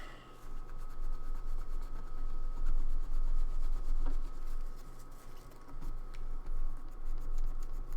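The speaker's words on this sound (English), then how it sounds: "So let's keep scrubbing at this." Steady scrubbing of paint off a customized figure with rubbing alcohol, a continuous close rasping rub with faint quick strokes throughout and no talk.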